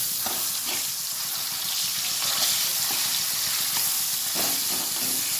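Chopped tomatoes cooking down in hot oil with black cumin in a pan, a loud, continuous close sizzle and crackle with faint stirring scrapes throughout.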